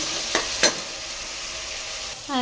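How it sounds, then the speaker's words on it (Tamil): Onions and tomatoes sautéing in a pan for a taro root curry, a steady close sizzle with two brief sharp scraping stirs of a spoon. "வதக்கிக்கலாம் தக்காளி நல்லா வதங்கட்டும்."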